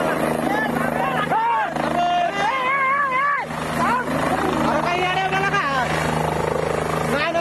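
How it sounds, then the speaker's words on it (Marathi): A helicopter making an emergency landing on an open road near a village, a loud, continuous rotor and turbine roar with excited crowd voices shouting over it throughout. "एका मोकळ्या रस्त्यावर या ठिकाणी हेलिकॉप्टरचं इमर्जन्सी लँडिंग करण्यात आलेलं आहे"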